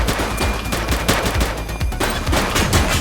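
Gunfire in The Precinct, a police video game: loud, rapid bursts of automatic shots crack in quick succession, dense and close, with overlapping reports running continuously.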